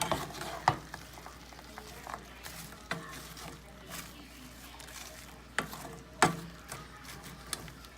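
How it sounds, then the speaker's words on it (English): Partly frozen food is stirred in a container on the heat, with a faint steady sizzle under scattered scraping and clunking knocks of the utensil at irregular intervals. "Anyways, I just mix them in."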